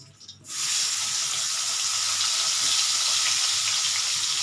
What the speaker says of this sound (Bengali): এই তেলটাতে আমি একটু সামান্য পেঁয়াজ রেখেছি জুলিয়ান করে এটা আমি একটু লাল করে ভেজে নেব